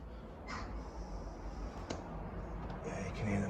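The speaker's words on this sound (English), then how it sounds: "Yeah, you can hear them birds." Crows caw a few times from somewhere inside or around an abandoned dairy farm building, the calls fairly faint against a quiet, rumbling background.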